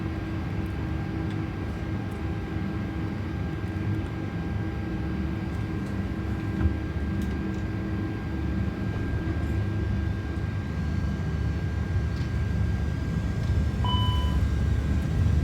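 Airbus A330 engines in a flight simulator during the takeoff roll, a steady loud roar with a low rumble and a faint high whine holding throughout, no talking.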